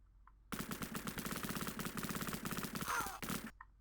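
Rapid machine-gun fire from the Sega Mega Drive game Cannon Fodder: a steady, fast rattle of retro shots runs for about three seconds, loud and unbroken, with no one speaking.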